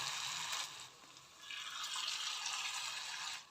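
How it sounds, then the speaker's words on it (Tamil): Potato slices shallow-fry in a little oil with a soft, steady hissing sizzle that dips briefly and then swells again, with no talking. "கொஞ்சமாக எண்ணெய் சேர்த்து பொரிச்சு எடுத்துக்கலாம்."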